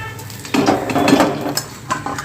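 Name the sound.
taking capsicum bhaji out of the frying oil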